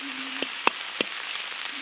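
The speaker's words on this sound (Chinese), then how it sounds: "下入葱姜蒜末干辣椒" Minced scallion, ginger, garlic and dried chili fry in rendered pork belly fat, giving a close, steady sizzle broken by a few sharp spatula scrapes and knocks.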